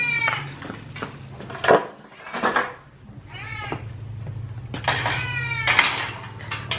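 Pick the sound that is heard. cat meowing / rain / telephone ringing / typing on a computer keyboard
cat meowing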